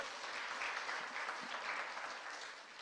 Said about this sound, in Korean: 한번 박수 한번 주시기 바랍니다